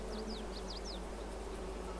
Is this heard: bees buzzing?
yes